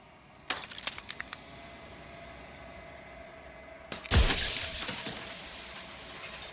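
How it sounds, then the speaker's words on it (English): A mirror cracks and shatters into jagged glass shards in the game Slay the Princess. A few sharp clicks of cracking come first, then a loud burst of breaking glass, followed by a lingering tinkle and hiss of falling shards. "Turning the mirror into jagged shards of broken glass."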